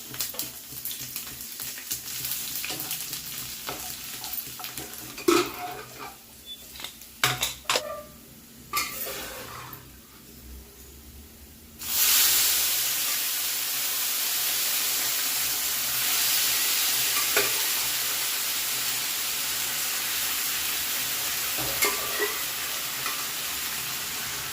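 Garlic, panch phoron, asafoetida and dried red chillies hit hot oil in a home kitchen with a loud, steady sizzle that bursts in sharply after some quieter clatter and continues alone to the end.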